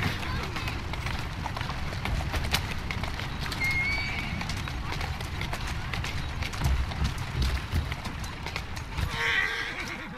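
A horse clip-clops steadily on hard ground, whinnying now and then, close by, with someone talking gently to it over the hoofbeats.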